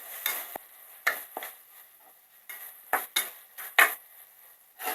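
Chicken gizzard fry stirred in a pan, with a series of scraping, clinking spoon strokes against the metal over a faint sizzle, loud and near, with short pauses between strokes and no talking.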